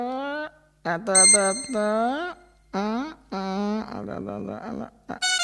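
A mobile phone rings with a loud, close melodic ringtone of bright, gliding tones repeating in short bursts with brief gaps.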